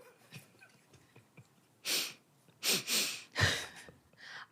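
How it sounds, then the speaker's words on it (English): A person sniffs several times, sharp nasal inhalations in quick bursts with short pauses between them, close and fairly loud against a quiet room. "Sniffing."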